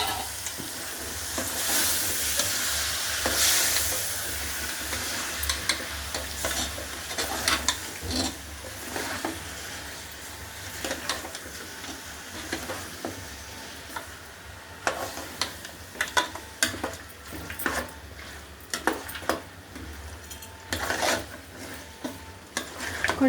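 Mutton head curry fries in a pan with ginger and garlic, giving a steady sizzle under repeated scraping and clinking stirs that grow sharper and more frequent toward the end.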